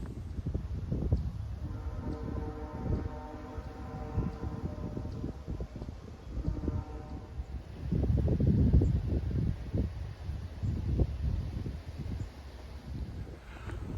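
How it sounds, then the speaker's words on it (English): Gusty wind buffets the microphone outdoors on a wilderness trail near trees, rising and falling, with a faint tonal hum briefly in the background. "it's pretty windy today"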